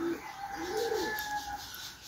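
Racing pigeons cooing, soft low coos and a rising call drifting over faint outdoor background noise with a steady hum, fairly quiet and close.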